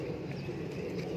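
Pigeons cooing in a breeding loft, low soft murmuring coos running continuously under a faint background hum.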